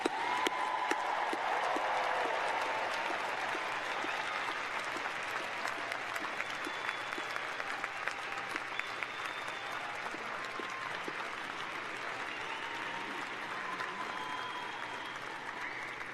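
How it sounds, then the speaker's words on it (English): Sustained applause from a large audience fills a 2019 College of Engineering graduate recognition ceremony, a dense, even wash of many hands clapping that continues steadily throughout, moderately loud and without talk. "I do think they deserve that one more round of applause"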